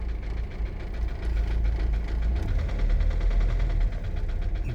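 A VW Jetta GLI MK5 FSI engine with air leaks and no coolant system runs after sitting for three years, a steady low rumble with a ticking, knocking rhythm, close and continuous.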